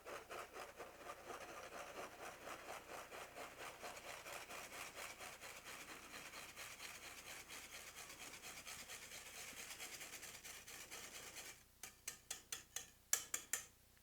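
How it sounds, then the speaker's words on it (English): Tiramisu cream is whisked by hand in a bowl with quick, even scraping strokes that go on steadily. The strokes end in a few slower, sharper taps against the bowl. "do it with a whisk like this. I feel like this makes it nice and fast."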